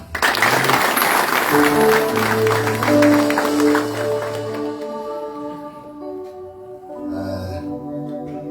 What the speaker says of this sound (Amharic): አሁንም እግዚአብሔር ይባርክ ስትሉ አጨብጭቡ